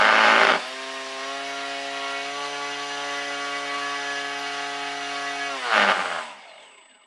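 A small motor on a 3mm shaft spins a propeller on a thrust test stand, giving a steady, high-pitched whine that holds evenly for several seconds between short louder bursts at spin-up and cut-off.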